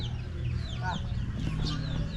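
Chickens in a coop cluck and squawk in short, scattered calls over a steady low background hum, fairly close by.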